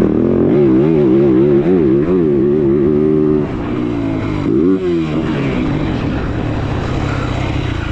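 A Yamaha YZ450F GYTR motocross bike engine revs hard and accelerates, loud and close, with rising and falling pitch through gear changes, no talking.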